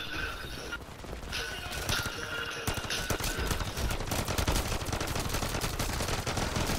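Rapid automatic gunfire from a Call of Duty match on a snowy map, dense bursts of shots rattling almost continuously over a steady game soundscape, loud and close.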